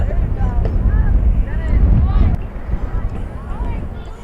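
Low, steady wind rumble buffets the microphone throughout at a softball field during a game while a person talks over it, the roar easing slightly partway through.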